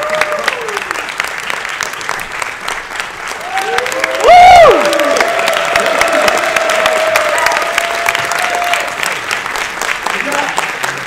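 A conference audience at a video game convention applauds to welcome the moderator on stage, dense sustained clapping with a brief burst of microphone feedback partway through and a faint voice underneath.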